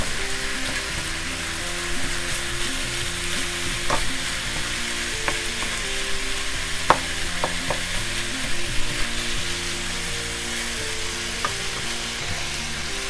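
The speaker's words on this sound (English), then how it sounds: "using my wooden spoon to chop that down." Moussaka meat sauce fries in a pan while a wooden spoon breaks it up, producing a loud, continuous sizzling hiss with occasional sharp pops and soft stirring knocks, steady throughout without speech.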